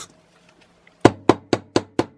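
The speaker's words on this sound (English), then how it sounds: "While I hammer, I keep rotating this one to another angle" Five sharp hammer blows in a quick, even rhythm, close and loud, knocking a part out of a tripod ball head, following a brief quiet stretch.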